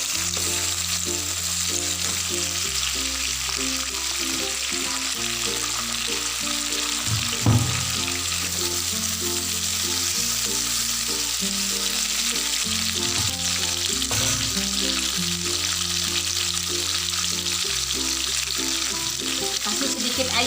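Chayote pieces fry in a hot pan with a steady, loud sizzle that runs continuously throughout, with an occasional clink of a utensil stirring and no one talking.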